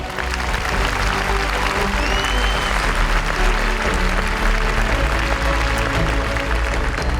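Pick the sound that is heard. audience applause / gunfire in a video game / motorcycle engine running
audience applause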